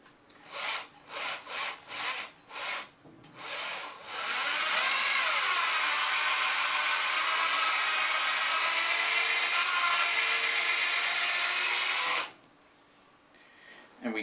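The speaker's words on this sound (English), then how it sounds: "I take my finger out, and we're not all the way through yet, so I can drill it a little bit more." A drill bores through a wooden bass guitar neck, starting with several short bursts, then a loud, sustained whining grind that runs about eight seconds before cutting off, with no talking.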